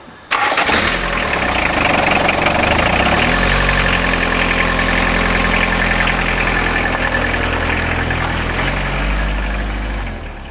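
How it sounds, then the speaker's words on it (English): A petrol camper van engine, a Talbot Express with a leaking exhaust manifold, cranks and catches, then settles into a loud, steady idle close by, rumbling evenly for several seconds. "This is the old petrol engine from my camper van"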